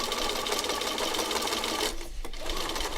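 Sewing machine stitching a seam in fabric, a steady fast rattling drone that briefly slows and dips near the end before resuming, close and continuous.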